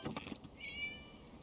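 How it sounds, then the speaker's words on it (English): A cat meows once, a short, fairly high, clear call in the Genshin Impact video game, quiet and close, following a few soft rustling noises. "It was just a cat."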